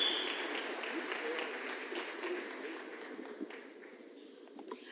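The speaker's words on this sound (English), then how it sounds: "Please give our panelists a round of applause." An audience at a national convention in South Africa applauds the panelists at the close of a panel session, a steady wash of clapping that slowly thins out, with voices murmuring faintly underneath.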